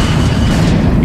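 Weapon fire from units in the Star Wars: Empire at War strategy game, a single loud, deep booming blast filling the whole moment, close and heavy.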